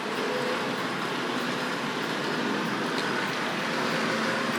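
A Tri-ang RS.14 Transcontinental passenger model train set, a long OO-gauge train, runs steadily on its track, giving a continuous soft whirring motor hum and faint wheel rattle at an even level throughout.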